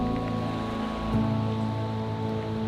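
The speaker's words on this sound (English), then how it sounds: "It's raining, but we're gonna check it out." Rain falling at a Lake Superior beach makes a steady, even hiss of drops on surfaces. A low constant engine-like hum runs underneath, and no one speaks.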